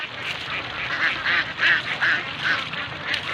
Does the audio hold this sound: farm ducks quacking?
yes